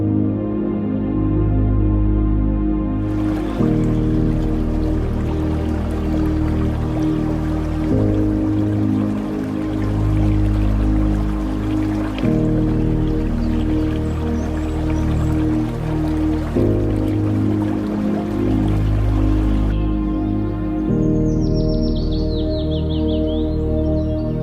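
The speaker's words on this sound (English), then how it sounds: "enjoy the sounds of running water" A natural stream of running water flows steadily and fairly loud throughout, a continuous wash with faint bird chirps appearing near the end.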